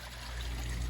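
Water pours out of a pipe into a backyard pond with an IBC bell siphon aquaponic setup, a soft steady trickle and splash, fairly quiet and unbroken.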